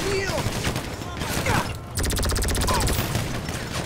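Heavy gunfire in the video game GTA 5 Online, dense rapid bursts of shots loud and close, pausing briefly before a fast rattling volley resumes.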